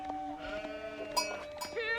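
Sheep bleating in a strategy video game, several short wavering calls layered over busy game sounds and faint commentary.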